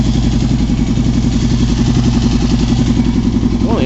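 A Honda XLX 350R motorcycle with an aluminium exhaust idles close by, a loud, steady, even thumping rhythm that holds without faltering.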